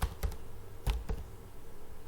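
Keys on a computer keyboard are tapped in a few quick, close-up clicks, two short pairs within about a second, then a quiet room tone.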